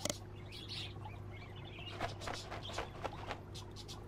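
Pet-shop birds chirping in Exotica Petshop Simulator, a steady run of quick tweets and calls at moderate volume over a low background hum.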